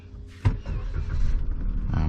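A Toyota Raize starts by push button: a short click, then the engine catches and settles into a steady idle, heard close and fairly loud.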